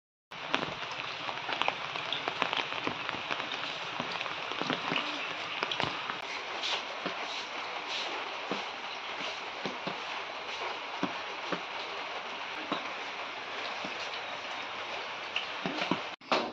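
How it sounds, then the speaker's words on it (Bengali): Heavy rain falls outdoors as a continuous hiss with scattered sharper drips and ticks throughout, steady and moderately loud, with no clear talking. "হ্যাঁ, আমাদের এদিকে খুব বৃষ্টি হচ্ছে।"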